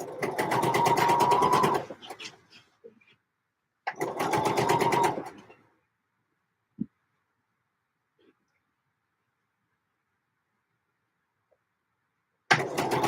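A sewing machine stitches a dress in two close, steady whirring runs of a couple of seconds each, separated by quiet pauses with a faint click.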